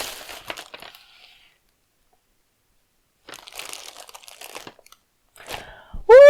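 A Chouette Kit sewing kit package being unboxed, with bursts of crinkly paper or plastic rustling and tearing separated by silence, ending in a louder sharp squeak or scrape up close.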